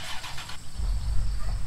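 A Ford Mustang engine fires up in a car-dealing simulator game: a brief starter whir, then a deep low rumble settles into a steady idle.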